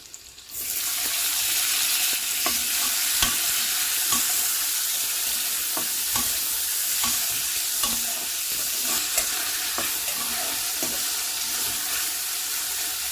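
Two large chopped onions go into a hot pan and fry with a steady, close sizzle from start to finish, broken by occasional stirring clicks and scrapes.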